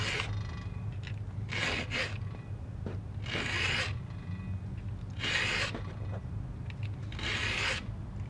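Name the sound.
filing chainsaw teeth with STIHL 2-in-1 filing guide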